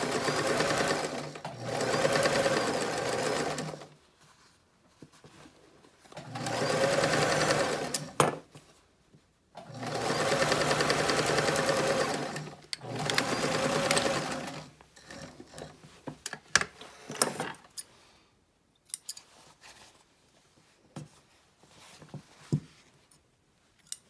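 A sewing machine stitches the bottom seam of a fitted face mask in steady whirring runs of a few seconds each, with pauses and small clicks of handling between runs.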